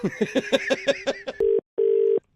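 A telephone number is dialed on a phone: a rapid run of about eight short keypad tones, then two longer steady beeps with a brief gap between them, loud and close.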